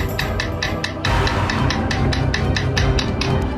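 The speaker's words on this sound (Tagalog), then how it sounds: "Hanggang gantihan nila ito ng pukpok gamit ang screwdriver." Rapid metallic knocking with a screwdriver on a door, a steady run of sharp, close taps in quick rhythm that keeps going without pause.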